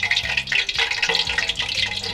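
Sa weng egg balls deep-fry in oil at around 90 to 100 degrees, giving a continuous soft bubbling sizzle with light crackles, fairly close and with no talking.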